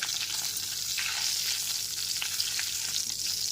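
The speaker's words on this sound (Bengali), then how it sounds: "ফোড়নটা এখানে হালকা করে ভেজে নেওয়ার পর এর মধ্যে দিয়ে দেব হাফ টিস্পুন হিং" Tempering spices with asafoetida frying in oil on a low flame for a vegetarian potato and pumpkin curry, a steady close hiss of sizzling with soft stirring scrapes mixed in.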